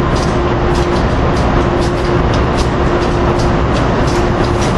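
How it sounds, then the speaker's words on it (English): Amtrak Regional 194 at 30th Street Station, heard as a steady, loud rumble of rolling rail cars with a constant hum and no breaks. "Regional 194 has already arrived into 30th Street Station, 24 minutes late"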